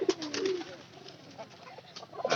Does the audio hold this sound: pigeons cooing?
yes